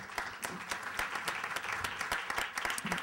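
Sustained audience applause at a TV industry conference panel, a dense patter of many hands clapping steadily, moderately distant in a large room.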